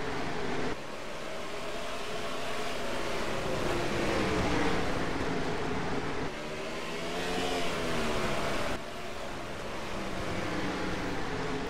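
Race cars on a tight short oval track in an ISCR A&W Canadian Series event at Edmonton, engines roaring continuously with rising and falling revs as the pack passes, loud and steady throughout.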